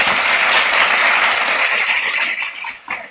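An audience claps for the speakers at a live-streamed sustainable finance talk, a dense wash of applause that fades out with a few last claps.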